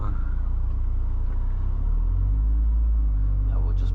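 A small Mazda Miata rolls slowly through a parking lot, its low engine rumble steady and close, shifting to a deeper, heavier drone halfway through, with no other sounds standing out.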